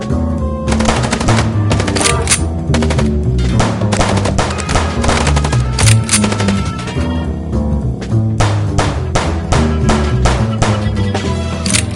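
Rapid bursts of gunfire from the video game Chicken Police rattle on loudly and continuously, dense volleys of shots layered over one another with no pauses and no voices.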